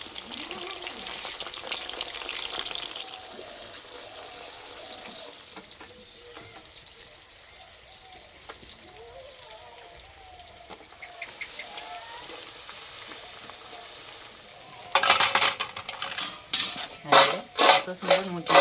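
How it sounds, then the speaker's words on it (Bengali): Potato chips fry in hot oil in a kitchen with a steady, soft sizzle; later salt water is added, setting off a loud, crackling spatter that surges and pulses in bursts. "এই নুন জলটা সাবধানে দিতে হবে,"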